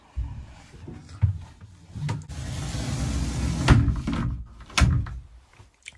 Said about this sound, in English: The sliding doors were a great idea by Quicksilver.